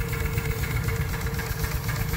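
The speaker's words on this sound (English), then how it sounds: "My little steam engine." A small steam engine, originally a marine engine and now mounted on a wagon, runs steadily with a continuous low mechanical chug and hum, close and even throughout with no talking.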